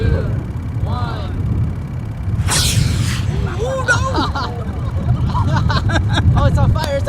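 A model rocket launches outdoors at a METSA launch event with a sudden short roaring whoosh over the chatter of a nearby crowd, then excited voices and noise continue.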